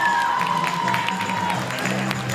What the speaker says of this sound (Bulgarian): Аплодисменти за всички.